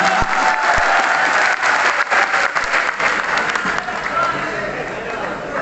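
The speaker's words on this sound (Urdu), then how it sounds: "یہ اکا دکا تالیوں سے کیا ہوگا؟" Loud, dense applause from the audience at an Urdu poetry gathering in Saharanpur, with sharp individual claps punching through a steady crowd roar that eases slightly toward the end.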